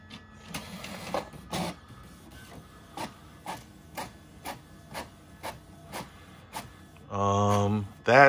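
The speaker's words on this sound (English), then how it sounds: "That sounds like it's printing something." Photocopier making a colour copy of a dollar bill: a steady series of rhythmic mechanical clacks about once per second, followed by a louder whirring feed near the end.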